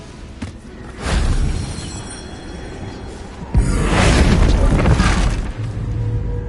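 Confringo fire blast spell from the Hogwarts Legacy video game, with a loud burst near one second and a bigger explosive boom around three and a half seconds, followed by a sustained crackling roar.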